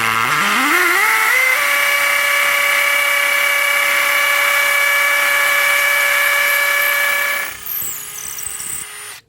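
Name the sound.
hammer drill boring hole into brick wall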